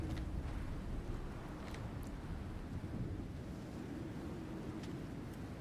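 Steady, roaring wind in the survival video game Icarus, dense and continuous across the whole stretch, with a few faint clicks over it.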